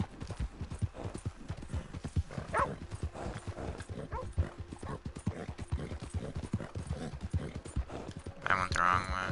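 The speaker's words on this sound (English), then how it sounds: "This is a fast horse." A horse gallops in Red Dead Redemption Online, its hooves beating a fast, steady clip-clop for the whole stretch, with a brief ringing game tone near the end.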